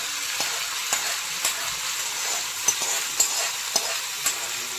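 Dry fruits stirred and mixed in a pan at home for a Vinayaka Chavithi festival dish, a spoon scraping and knocking against the pan at a steady rhythm over a soft sizzle, close and clear, with no talking.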